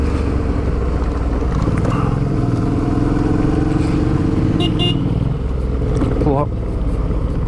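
An off-road motorcycle ridden on dirt gives a steady, close engine drone that rises and falls with throttle changes, with a few brief sharp tonal chirps toward the end.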